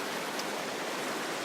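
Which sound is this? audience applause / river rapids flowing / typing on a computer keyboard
river rapids flowing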